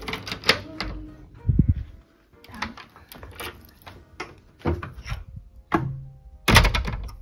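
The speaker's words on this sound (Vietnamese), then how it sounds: "bây giờ thì mình sẽ mở cửa phòng mình ra nha mọi người" A key turning in the lock of a student dorm room in the Netherlands, then the door opening, with irregular metallic clicks, rattles and thuks, close and fairly loud.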